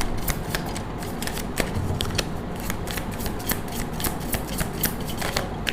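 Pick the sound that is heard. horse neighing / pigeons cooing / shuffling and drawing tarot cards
shuffling and drawing tarot cards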